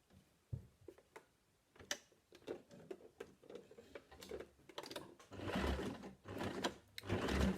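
A sewing machine stitches a cloth face mask, running short bursts of rapid ticking that start and stop, then a longer, louder steady run near the end as it backstitches to lock the seam.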